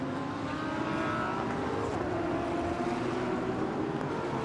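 Porsche and Audi GT race cars lapping the Okayama circuit during GT World Challenge Asia qualifying: a steady, distant engine drone with faint rising revs, held at a low level throughout.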